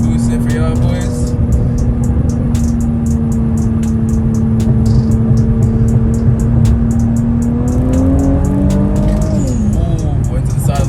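An E85-fueled Infiniti Q50 with a VR30 engine holds a steady, loud engine drone while brake boosting, then revs up and pulls away hard near the end with a brief tire chirp, continuous and close.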